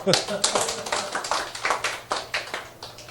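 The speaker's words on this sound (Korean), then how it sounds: "자 아싸 가오리 박수 한번 주세요" A group at a toast, glasses raised, claps in a brisk series of sharp, fairly close hand claps over about three seconds, with voices mixed in.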